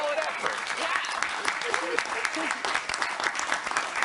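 A studio audience applauds on a late-night political comedy panel show, a dense continuous wash of clapping from a sizable crowd that holds steady for several seconds.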